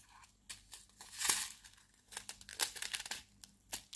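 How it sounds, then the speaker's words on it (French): Plastic bag of diamond painting beads being cut open, a series of crisp crinkling and tearing rustles in short irregular bursts, close and fairly quiet with no talking. "Je vais découper le sachet."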